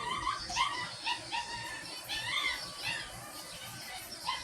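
A dog whimpering and yipping in repeated high, rising cries with short barks mixed in, fairly close and insistent over a low background rumble.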